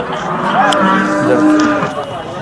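Cows at the Sangola cattle market low with a long, loud drawn-out moo, close by, over a busy background of other livestock and crowd noise.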